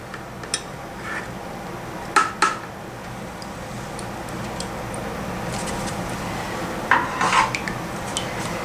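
A spoon skims scum from fermenting sauerkraut in its golden brining liquid, giving a few sharp clinks and scrapes against the container in two short bursts over a quiet background.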